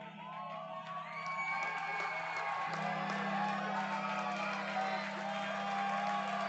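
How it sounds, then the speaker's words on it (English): Baseball crowd at an Evansville Otters versus Florence Y'alls game cheering and whooping steadily as fans rise to their feet before a two-strike pitch, a broad sustained roar with a low steady hum beneath. "Crowd gets up on their feet"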